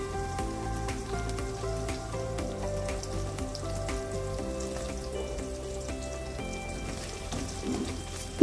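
Chopped okra and green chillies fry in a pan, giving a steady, close crackling sizzle like light rain. It continues evenly throughout, with no talking.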